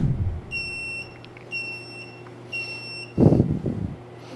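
Omcan 23-inch undercounter dishwasher sounding its fill alert, three evenly spaced high electronic beeps of about half a second each over a low machine hum, with a brief rustling thump near the end.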